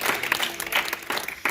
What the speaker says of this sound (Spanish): Un aplauso a Jesucristo fuerte